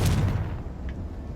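A Confringo blasting curse in Hogwarts Legacy lands as a single heavy boom at the very start, then a rumbling tail fades over about a second with no talking.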